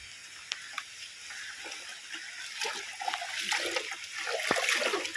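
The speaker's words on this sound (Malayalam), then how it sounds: "മഴയാണ് പെയ്യുന്നത്" Steady patter of water falling across surfaces, with scattered drips and splashes building louder toward the end.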